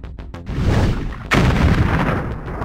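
Cannon fire from a tank in the Puppy Rescue Patrol kids' game: a few quick clicks, then a heavy booming shot followed by a second louder blast with a rolling rumble.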